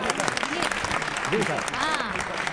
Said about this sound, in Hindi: एक बार जोरदार तालियां बजा दीजिए अरुण जैमिनी के नाम पर